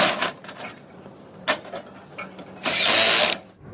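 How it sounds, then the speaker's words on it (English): A power screwdriver drives screws while a grow bag stand is being assembled, giving short mechanical clicks and rattles followed by a loud, sustained whirring burst near the end. "here we are using the screw machine so that the work can be completed easily"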